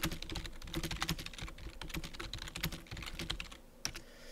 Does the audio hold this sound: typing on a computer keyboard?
yes